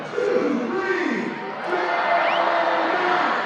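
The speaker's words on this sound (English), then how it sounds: "you can hear the crowd roaring, hoping for a strikeout and 3 sweet treats that'll come with it" A Banana Ball crowd at historic Grayson Stadium roars steadily, a dense wash of cheering and shouting voices that swells again after a short lull.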